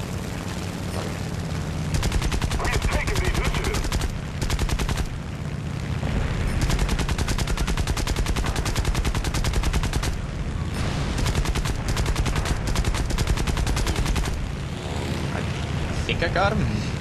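Rapid, sustained bursts of aircraft machine gun fire rattle through a dogfight in the War Thunder video game, long stretches of fire with brief pauses, over a droning plane engine and with a player talking throughout.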